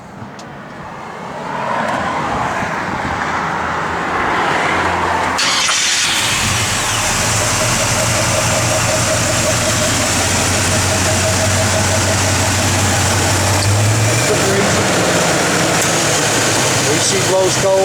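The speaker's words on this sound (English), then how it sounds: "Let Nathan jump in there and fire it up." A 1965 Chevrolet C10 pickup truck engine cranks and catches, then settles into a loud, steady idle rumble that continues throughout, with a brief voice near the start.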